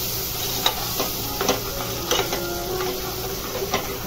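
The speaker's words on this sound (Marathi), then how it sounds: "तेलामध्ये थोडंसं भाजायचं." Spices with turmeric roasting in oil for a matar paneer masala give a steady close sizzle, broken by several scraping stirs of a spoon against the pan.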